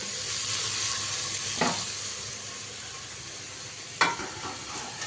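Tomatoes and curry leaves fry in a pan under a continuous hiss and sizzle, with two sharper scraping stirs of a spoon breaking through the steady crackle.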